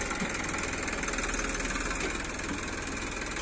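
A farm tractor fitted with a homemade hydraulic back loader sits idling, its engine a steady close rhythmic chug and knock that runs unbroken with no talk.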